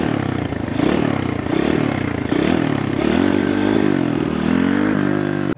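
A small pit bike engine revs close by in a paved lot, its buzzy note rising and dipping through repeated throttle blips over a constant rattling idle, with no one talking.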